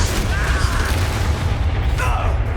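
The Bombarda blasting spell goes off in Hogwarts Legacy with a loud, booming burst of low rumble that lasts through the moment, with a brief whooshing spell effect layered on top.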